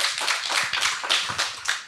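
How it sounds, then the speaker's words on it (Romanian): A live talk-show audience claps at the opening of the session, a lively burst of close, crisp handclaps that rises and falls in uneven waves without any talk. "Începem cu niște aplauze, cum am început și data trecută"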